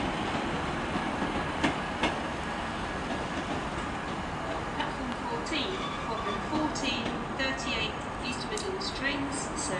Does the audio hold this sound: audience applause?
no